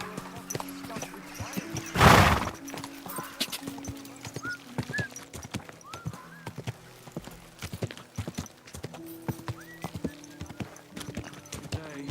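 Horse hooves clip-clopping at a steady walking pace in the medieval game Kingdom Come: Deliverance, close and moderately loud, with a brief crash near 2 seconds and faint ambient sounds behind.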